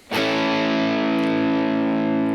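Electric guitar run through a stacked Klon-style Mythic drive and Rat-style Rodent distortion, one chord struck and left to ring out thick and saturated, sustaining loudly without other sounds.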